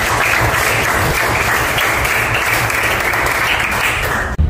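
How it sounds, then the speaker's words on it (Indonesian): A classroom full of people applauds loudly and continuously for several seconds, then the clapping cuts off abruptly. "kasih tepuk tangan"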